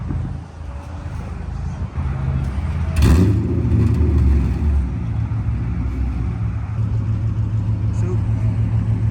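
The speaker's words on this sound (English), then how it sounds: "Buddy SRT here is gonna roll out" Dodge SRT car rolling out of a car show, a steady low engine rumble that rises after a brief rev, heard close with wind noise on the microphone.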